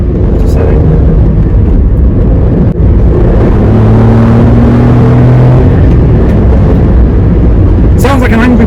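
A Toyota Aygo X engine drones and revs loudly and steadily throughout, with a rough, buzzing tone and a voice talking over it.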